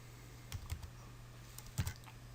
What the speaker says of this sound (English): I have to type this without having any spaces in here